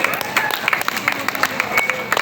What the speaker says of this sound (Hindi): अरे नेताजी के बेइज्जती पर भी एक बार जोरदार तालियां हो जाए।